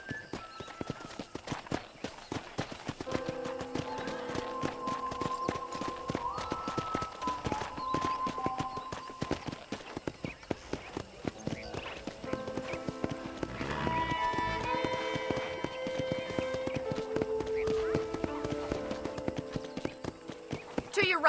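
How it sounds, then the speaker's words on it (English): Steady rhythmic hoofbeats of a galloping horse in Red Dead Redemption, near and continuous, over game music with a faint whinny. "let's see if you can still ride a horse"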